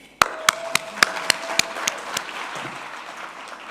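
Clapping at a future-of-work conference dialogue comes as a short run of distinct, evenly spaced sharp claps, loud and close, before quickly thinning into faint scattered hand claps and room noise.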